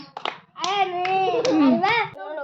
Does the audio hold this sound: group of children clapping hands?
yes